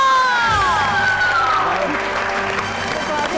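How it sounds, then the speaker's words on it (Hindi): Applause and cheering from a studio audience on a Hindi television show, a steady wash of clapping with crowd noise and tonal music-like sweeps over it, loud and continuous throughout. "बहुत सारी तालियां"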